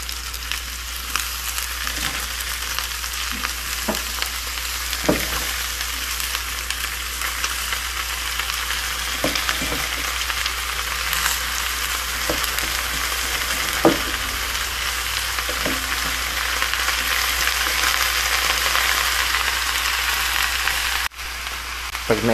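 Pechay greens sautéing with pork in a pan, a loud continuous close sizzle and crackle with occasional stirring knocks and scrapes, steady throughout.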